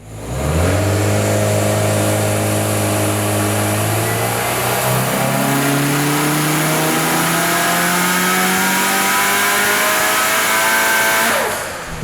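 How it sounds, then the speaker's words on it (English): A 553 hp twin-scroll turbo 2018 Subaru STI revs hard on a dyno, loud and close, its engine note climbing steadily through the gears for about ten seconds before cutting off, with turbo whine over the roar. "a dyno pull."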